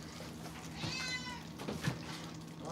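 A house cat meows nearby in a kitchen, one drawn-out rising and falling meow followed by a shorter second call, fairly quiet over a low background hum.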